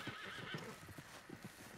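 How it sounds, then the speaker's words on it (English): A horse pulls a carriage in Red Dead Redemption 2, with soft, rhythmic hoofbeats clopping along and a faint whinny, all low in level. "Carriage and horse."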